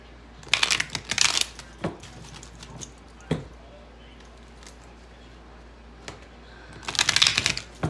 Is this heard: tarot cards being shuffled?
yes